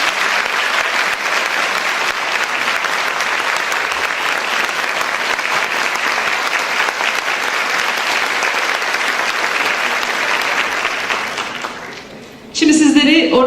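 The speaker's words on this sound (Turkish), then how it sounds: "Ona böyle güzel bir alkış rica ediyorum" An audience at a Turkish folk song contest gives sustained, even applause for the orchestra conductor. The clapping stays loud for about eleven seconds, then fades out, and a voice over the sound system follows.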